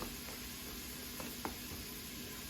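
Spices sizzle in the hot pot of an Instant Pot while butternut squash chili is being made: a soft, steady frying hiss with a couple of faint clicks, quiet and close, with no talking.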